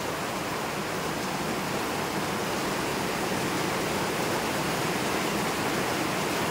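Floodwater from heavy rain rushes through a pig pen in the rural Philippines, a constant, dense hiss and roar, steady and unbroken throughout, with no voices.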